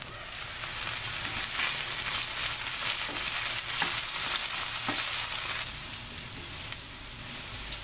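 Potatoes fry in a covered pan with a loud, dense, continuous sizzle and crackle, steady throughout with a few faint pops, no voices.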